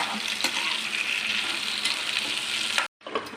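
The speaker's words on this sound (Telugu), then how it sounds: "ఇప్పుడు అదే ప్యాన్లో టమాటో అండి, ఒక పావు కిలో టమాటో ఇలా పీసెస్గా కట్ చేసుకొని ఉడికించుకుందాం" Quarter kilo of cut tomato pieces cooking in a pan, a dense continuous sizzle with a few soft stirring knocks that cuts out abruptly near the end and then briefly returns, with no speech.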